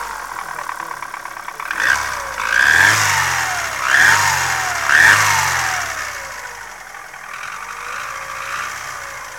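A cold Chevrolet Aveo 1.5 engine runs with a metallic knock and a whistle, the revs swelling three times in quick succession before settling back to a steady idle, heard up close.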